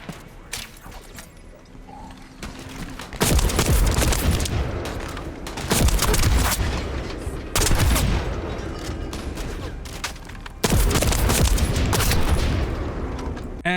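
Loud gunfire from the shooter video game The First Descendant, with heavy sustained volleys of bursts and automatic fire arriving in three dense waves, booming and close, separated by brief quieter stretches.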